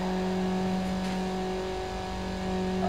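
Car engine in Need For Speed Underground, a loud sustained rev with a strong steady tone that holds level for a few seconds, close and alone without talk.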